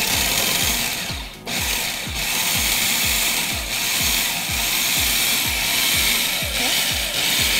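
A food processor pulses butter into pastry dough for a fresh fruit galette, making a close, rapid run of evenly spaced chopping thumps over a constant motor whir, with one short dip partway through.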